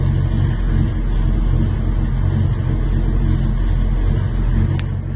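A big-block 454 Chevrolet V8 in a 1977 K5 Blazer idles steadily nearby, a continuous low rumble with a brief click near the end.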